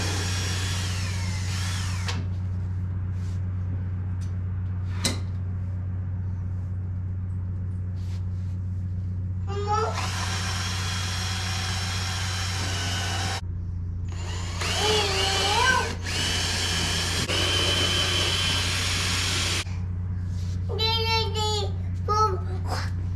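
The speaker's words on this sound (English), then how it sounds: "we're going to pre-drill our holes just so you don't have any cracks" A power drill pre-drills holes through wooden boards for a window well cover, in several short bursts of whirring, with a steady low hum running underneath throughout.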